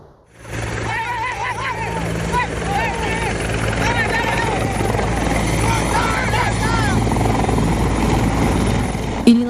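A helicopter evacuating a shot police officer thumps and whines loudly and steadily at close range, its rotor sound rising in as the clip begins.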